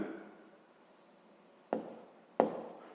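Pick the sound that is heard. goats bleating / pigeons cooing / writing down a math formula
writing down a math formula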